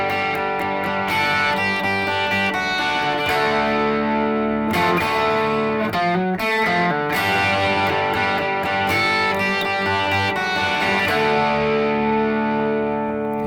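Distorted electric guitar plays the intro riff of a song, loud and sustained with ringing chords and effects, no talking.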